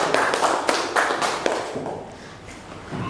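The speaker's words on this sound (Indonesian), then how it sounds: "Beri tepuk tangan untuk kelompok 1." Students in a classroom give a brief round of applause, a handful of loud, separate claps and taps up close that thin out and fade within a few seconds.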